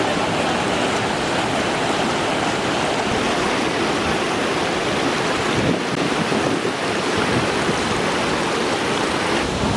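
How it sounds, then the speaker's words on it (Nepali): Light drizzling rain falls at a waterfall in Lalitpur, heard as a dense, steady broadband wash of falling water and wind noise, loud and unbroken with no voices. "अलिअलि सिमसिम पानी परिरहेको छ"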